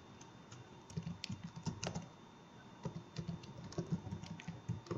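Someone types on a computer keyboard in short, uneven bursts of quick clicky keystrokes, close and fairly quiet, with brief pauses between runs of keys.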